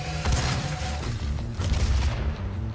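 Booming rocket blasts in Doom (2016), a series of muffled, rumbling explosions over a dense, continuous game soundscape with several sharper bursts standing out.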